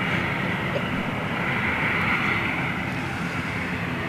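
An Aer Lingus regional aircraft operated by Stobart Air departs Manchester Airport, giving a steady, moderately loud engine drone that holds evenly throughout with no talking.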